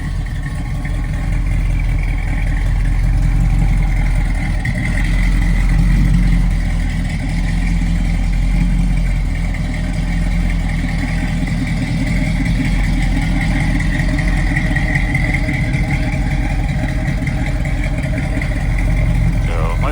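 A 1967 Pontiac Firebird with Flowmaster dual exhaust idles steadily at close range, a low rumble mixed with belt and alternator whine, while someone talks over it.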